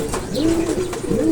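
Racing pigeons arrive home, and a pigeon coos close by in a short series of soft, throaty, rolling calls.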